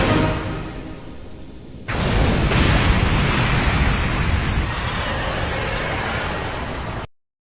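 An explosion in an anime, set off by an arrow shot, hits as a sudden loud blast after a stretch of rushing noise. It then rolls into a long, sustained roaring rumble that cuts off at the end.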